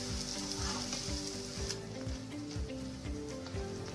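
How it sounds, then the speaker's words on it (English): Malpuas frying in ghee over a medium flame, giving a steady close sizzle and crackle with occasional soft stirring, with no voices. "make sure you're cooking your malpuas on medium flame basically"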